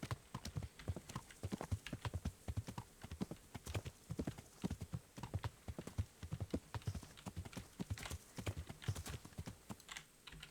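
Steady rhythmic horse hoof clops trot along continuously in a video game, Kingdom Come: Deliverance, close and even, with a faint background hiss and no talking.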